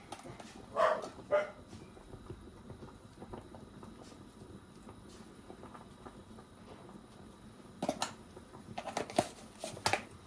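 A pet dog barks in a home kitchen while okra and ogbono soup is being cooked, with a couple of short sharp bursts near the start and a cluster of barks near the end over quiet background noise.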